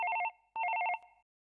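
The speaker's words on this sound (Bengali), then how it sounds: "ফোন আমি দেখছি" A telephone bell rings in two quick trilling bursts separated by a short pause, clear and close, with nothing else audible.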